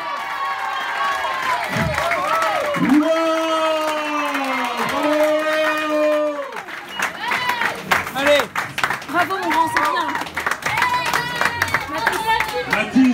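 A crowd at the finish line of the Entre Chien et Loup trail race cheers and claps for an arriving runner; loud sustained shouts and voices give way to scattered, rhythmic clapping, with people talking and calling over it.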